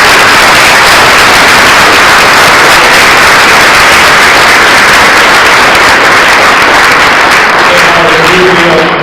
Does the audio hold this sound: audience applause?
yes